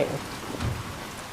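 Rain falls steadily in a thunderstorm scene from the video game Resident Evil 7, a dense even hiss of drops with a low rumble underneath, no speech.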